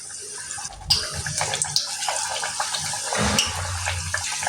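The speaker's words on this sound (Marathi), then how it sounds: "तेल चांगलं गरम झालंय, तर आपण असं एक एक पुरी ह्याच्यात टाकून घ्यायची." Spinach puris dropped one by one into hot oil and deep-frying, a steady close sizzle and crackle with bursts of louder bubbling as each puri goes in.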